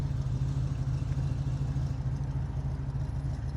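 A classic Camaro with a 350 V8, automatic 700R4 overdrive transmission, idles on a cold day with a low, steady, rumbling exhaust note, close and continuous with no talking.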